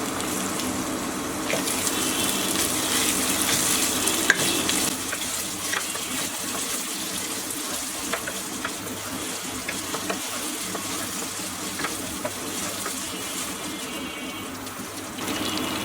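Ginger and garlic paste sizzles in a pot for a one-pot meal, a steady hissing fry with faint crackles, under occasional soft sounds of stirring.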